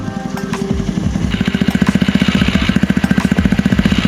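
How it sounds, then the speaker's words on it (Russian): An Indonesian-built homemade three-wheeled motorcycle, modelled on a Canadian T-Rex trike, runs close by with a rapid, rough, pulsing engine chatter that speeds up and turns steadier partway through. "Самодельный трехколесный мотоцикл, сделанный индонезийским мастером по образу и подобию канадского"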